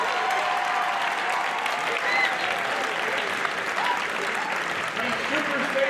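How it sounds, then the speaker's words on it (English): Audience applause for the young performers at the close of a talent show, a sustained, even wash of clapping from a crowd that continues the whole way through, with faint voices mixed underneath. "One more big round of applause for all the performers."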